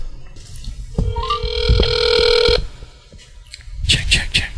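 A telephone rings for an incoming call-in guest on a radio show, a loud electronic ring tone lasting over a second, with talk and studio noise around it.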